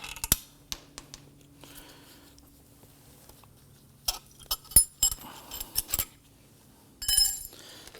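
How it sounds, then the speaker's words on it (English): Someone pushes down on a front strut assembly from a 2003-2014 Volvo XC90 and pries off its locking tab, making scattered metallic clicks, creaks and clinks in short bursts amid near-quiet pauses. "we're going to push down on our strut assembly and we're going to remove our locking tab"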